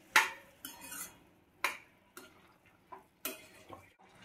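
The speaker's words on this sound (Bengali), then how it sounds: "ভালোভাবে চিনির শিরার মধ্যে পেঁপেটা মিশিয়ে নেব।" Papaya pieces stirred into sugar syrup in a pan, a series of sharp, close clinks and scrapes of a spoon at irregular intervals with quiet gaps between.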